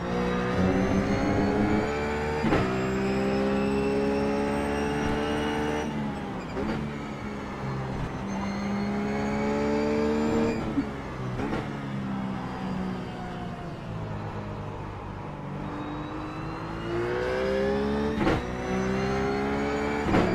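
A RUF race car in iRacing at Mid-Ohio, its engine revving hard and steady with sharp gear-change dips and rises across laps, loud and close throughout with no talk.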